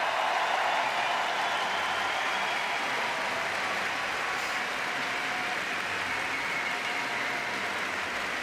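Dense, steady crowd applause and cheering fills a bouldering final in Bern, continuing loud and unbroken throughout with no talking.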